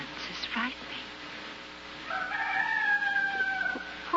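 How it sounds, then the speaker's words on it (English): A rooster crows in a long, rising, drawn-out call that follows a brief stretch of speech, standing out clearly against a quiet background. "It sounds like a rooster."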